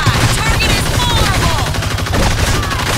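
Rapid, dense bursts of gunfire come from a trick gun in the Evolve video game, loud and continuous, with layered shots over a busy in-game soundscape.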